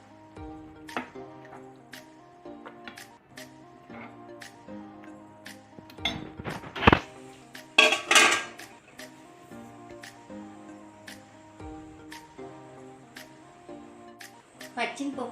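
Tomato curry with green chilli dal being served onto a plate, with dishes and cutlery clinking in short bursts and a scrape near the middle, while a voice talks over it.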